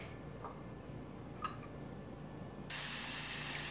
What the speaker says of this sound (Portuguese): Vou refogar aqui no azeite a gosto,